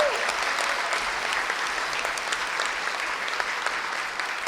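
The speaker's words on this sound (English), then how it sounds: "Let's give it a round of applause." A breakfast audience at a 30th-anniversary awards event gives sustained applause, a steady even roar of many hands clapping throughout with no break.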